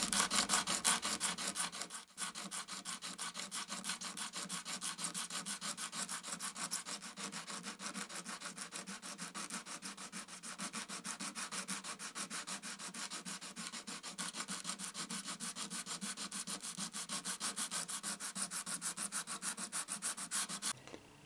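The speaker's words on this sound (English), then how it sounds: "I decided I better do some sanding because these big old ridges, that will telegraph through. I got 120 grit sandpaper." Lacquer on a 1997 Gibson 1960s Dove acoustic guitar being sanded with 120 grit sandpaper, fast rhythmic back-and-forth rubbing strokes, close and steady for the whole stretch after a brief pause near the start.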